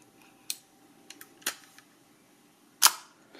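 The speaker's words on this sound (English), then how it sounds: "And I'll wind it on just to show you." Film being wound on a FED 3 rangefinder camera with an Industar 61 lens: a few quiet, close mechanical clicks and ratcheting ticks, with one sharper snap near the end and no voices.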